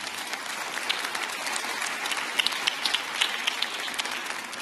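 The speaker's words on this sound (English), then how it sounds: "Give them a round of applause, please." An audience at a high school jazz festival in Boardman applauds warmly, with dense, sustained clapping and a few sharper claps throughout.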